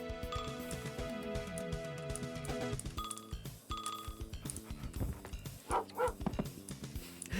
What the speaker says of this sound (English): you can hear the character going woof woof in a very confused manner